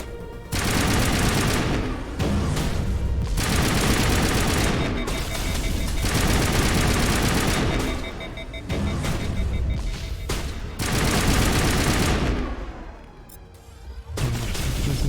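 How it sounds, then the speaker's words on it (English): Sustained bursts of heavy automatic gunfire with explosive rounds in the Mass Effect video game, loud and dense, coming in long volleys separated by brief pauses. "Put those high explosive rounds on it."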